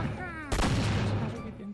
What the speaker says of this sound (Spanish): tú sigues disparando a esos polis